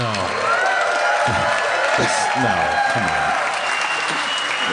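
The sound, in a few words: audience applause at live show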